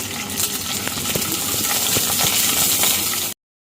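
Six green chillies spitting in about two tablespoons of hot oil, a loud, steady crackling sizzle close up that runs without a break, with occasional sharper pops, then cuts off abruptly.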